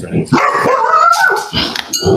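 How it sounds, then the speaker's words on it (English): A dog barks excitedly nearby in a rapid, loud burst of yaps and yelps, with a voice briefly speaking over it. "That was my dog going nuts."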